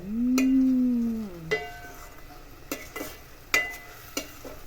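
Pigeon peas (tuver) fry in oil in a pan while being stirred, with a low sizzle underneath and a few sharp metallic clinks of a spoon against the pan, spaced irregularly; one long resonant ring opens the stretch.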